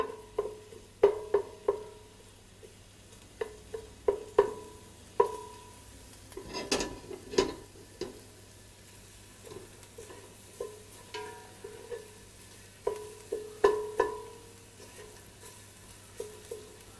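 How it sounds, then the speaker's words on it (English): Garlic browning in a pan for leek and bacon soup, a soft steady sizzle with repeated scraping and knocks of a utensil stirring against the pan, close and moderately loud, no speech. "I'm just gonna make sure the garlic browns up nicely for a second"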